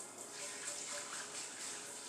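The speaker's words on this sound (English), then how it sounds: "I'm going to just wash it out with hot water." Hot tap water running steadily into and over a cast iron pan while it is rinsed, a close, continuous hiss and splash with no talking.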